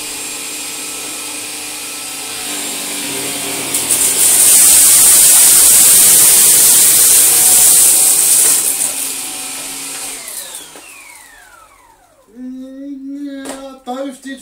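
A cordless stick vacuum cleaner makes one forward and back pass over a hard floor. Its steady whine swells into a loud, hissing roar, fades out, and then a voice speaks.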